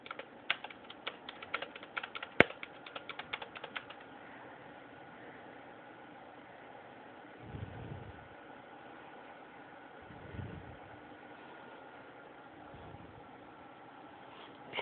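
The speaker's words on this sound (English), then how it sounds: "You like the sound of the keyboard?" Fast clicking of a computer keyboard being typed on close by for a few seconds, then a low steady hum with a few soft thumps, no talking.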